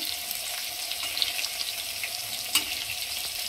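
Fish fries on a dosa griddle with a steady, even sizzling hiss that holds throughout, broken only by a few faint crackles and pops close by.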